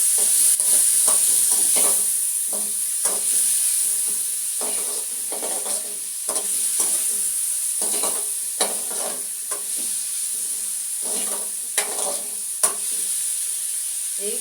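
Tomatoes and tamarind fry in a pan with a steady sizzling hiss, while a utensil stirs and scrapes in repeated soft strokes throughout.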